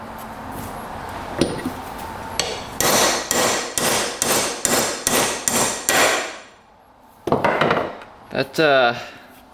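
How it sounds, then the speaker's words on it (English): About nine sharp, loud metal hammer blows in a steady rhythm drive a seized part out of a Yamaha YFZ 450 quad, followed by a pause and a few scattered knocks. "I had to really hammer that sucker out."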